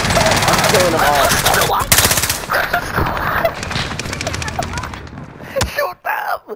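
Rapid automatic gunfire bursts crackle loudly in the Warzone video game, dense volleys in close succession, with excited voices shouting over the shooting.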